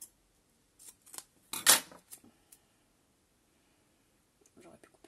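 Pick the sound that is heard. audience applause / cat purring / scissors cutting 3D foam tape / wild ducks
scissors cutting 3D foam tape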